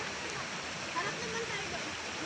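River water rushes and flows steadily, a dense broadband wash that stays even throughout, close and fairly loud.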